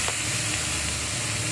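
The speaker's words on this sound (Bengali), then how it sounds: "সবকে একসাথে ভালো করে নাড়াচাড়া করে ভেজে নেব" Potato and cauliflower pieces sizzle steadily as they fry and are stirred together in a pan, a continuous close hiss with faint scraping and no speech.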